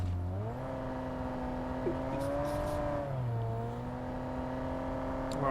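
Car engine in PUBG Mobile humming steadily while driving, its pitch rising and dipping as it revs up and eases off, close and continuous with faint background sounds.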